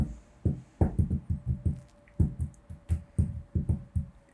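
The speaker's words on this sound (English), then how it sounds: "For the sounds like thuds and heavy thuds, you can just use your hands and make sounds like this" Hands slap and pound to make heavy thuds for home-recorded sound effects, a rapid series of close, dull, low knocks in uneven bursts, with no talk.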